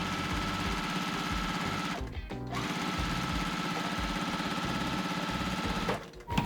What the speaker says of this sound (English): I'm gonna go ahead and take this to the sewing machine and sew all the way down.